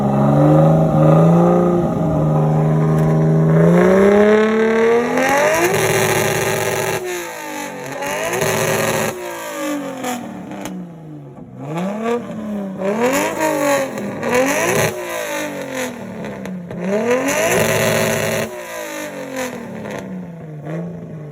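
A loud 500hp RB25 engine in an S13 drift car revving hard and repeatedly bouncing off the rev limiter, rising and falling in sharp bursts, close by at a car meet.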